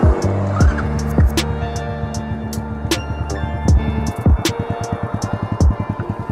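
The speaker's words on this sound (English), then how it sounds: "Cut the spark on and start this baby up." An Icebear Champion 125 minibike, a CT70 clone, has its small single-cylinder engine started and revved, then pulls away, the engine note rising and falling with sharp bursts before settling into a steady, close putter that fades off.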